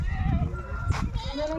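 A herd of goats penned on hilly ground near water bleats nearby, short calls rising over a voice talking throughout.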